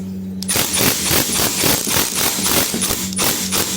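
Impact wrench hammering on the steering stem nut of a Yamaha Xmax 300 scooter, a loud, fast, continuous rattling burst that stops briefly and then resumes, with no voices.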